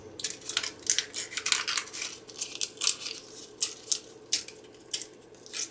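Paper is torn by hand for a junk journal in a series of short, close ripping bursts with brief pauses between them, uneven in rhythm and fairly crisp.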